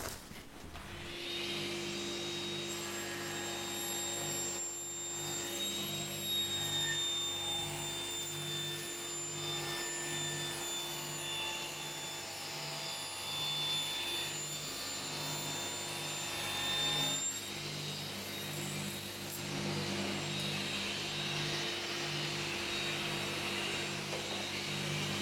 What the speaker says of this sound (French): je mets l'aspirateur en route et j'envoie la scie.